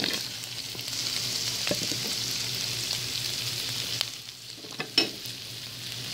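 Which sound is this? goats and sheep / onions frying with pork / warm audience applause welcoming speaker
onions frying with pork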